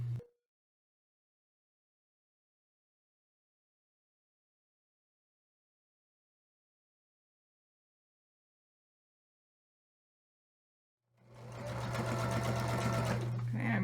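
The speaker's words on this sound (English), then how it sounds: "let me get this so that it lays flat under my machine, and we'll stitch down those last few inches of our binding." A sewing machine stitching down the last few inches of quilt binding, running with a steady mechanical hum near the end after a long stretch of silence, close and clear with no voice over it.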